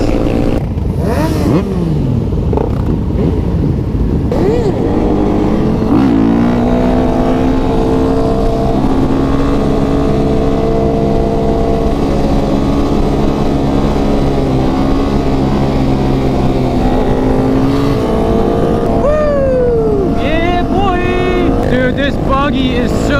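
Sport motorcycles overtaking on a road, their engines rising and falling in pitch as they rev past, loud and close over a steady engine drone, with a voice talking partway through.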